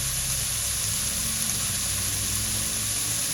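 Paneer sautéing in a pan for home-style paneer fried rice gives a steady, close, dense sizzle that holds unbroken throughout with no talking.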